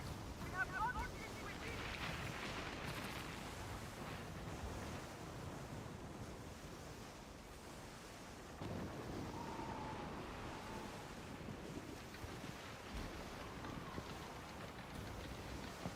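Wind and ocean waves while sailing in the video game Skull and Bones, a steady rush of surf and wind noise with a sudden swell midway, faint and continuous, with talk heard at times.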